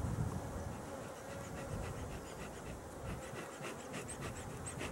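Honeybees at hive entrance number one on stand four drone in a steady, close, continuous buzz, with individual bees whining past now and then; no talking.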